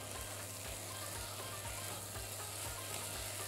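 Garlic and sautéed peppers sizzle steadily in a pan, a quiet, even hiss with faint rhythmic ticking underneath and no talking.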